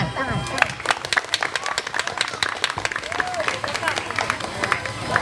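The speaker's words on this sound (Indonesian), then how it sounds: "Sekali lagi tepuk tangan." Crowd at an Indonesian Independence Day celebration in a village claps in a lively, uneven burst, sharp individual claps standing out near the listener, with voices mixed in underneath.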